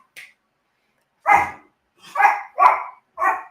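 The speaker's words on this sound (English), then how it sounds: "And now my dog's going to bark." A pet dog barks indoors, one faint yip followed by four loud, close barks spaced unevenly over a few seconds, with no talking.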